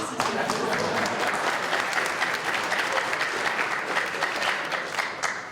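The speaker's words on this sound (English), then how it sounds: "I think we all ought to applaud for it" Seminar audience applauding during a discussion on innovation and inequality, sustained steady clapping from a crowd that holds evenly for several seconds, with faint voices underneath.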